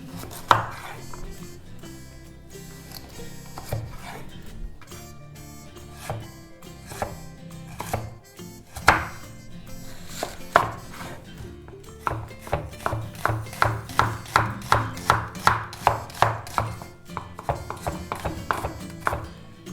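A knife chops a carrot into julienne strips on a cutting board, the strokes speeding into a fast, even rhythm of sharp taps near the end.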